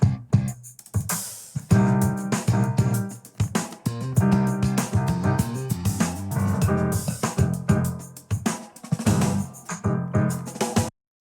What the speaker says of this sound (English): Suno taking my performance on the DGX 670